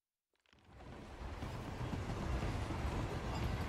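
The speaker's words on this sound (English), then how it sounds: "This is the longest train ever." A long train in Hitman 3 rumbles past, rising out of near silence within the first half second into a loud, continuous rolling clatter that holds steady to the end.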